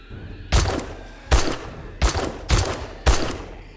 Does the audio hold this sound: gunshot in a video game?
yes